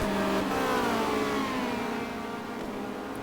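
Opel touring race cars in a 1990 WTCC race at Dubai scream past at full throttle, a loud, continuous high-revving engine drone with falling pitch as they pass, with no talk over it.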